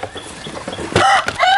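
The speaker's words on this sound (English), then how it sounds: "Chickens!" Domestic chickens on a homestead farm cluck in short, close calls that rise into a few louder, sharper squawks toward the end, with a faint background murmur beneath.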